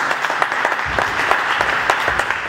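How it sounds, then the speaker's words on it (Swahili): A church congregation claps steadily for a few seconds, with many hands sounding together and close by. "Mimi nafikiri ungepigia Yesu makofi."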